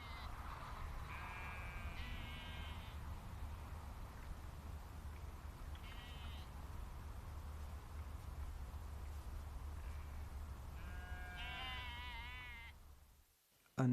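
Sheep on a hill bleat a few times from some distance over a steady low rumble, with scattered calls at intervals and an abrupt noise at the very end.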